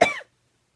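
One short, sharp cough from a person, close and loud, followed by silence.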